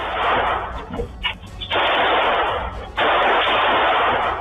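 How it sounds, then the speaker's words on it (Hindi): Rapid gunfire at a nightclub gate comes as harsh, sustained bursts of loud, crackling noise with a short broken gap between volleys, recorded with a muffled, low-fidelity quality. "इसके बाद 2 और शख्स आते हैं, सभी बाउंसर को घुटनों पर बैठने के लिए कहता है और फिर ताबड़तोड़ फायरिंग करता है।"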